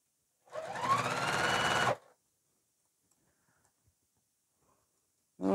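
A sewing machine runs a short burst of stitching for about a second and a half, then falls silent, with the motor starting up again briefly at the very end; close and clear, with no talking.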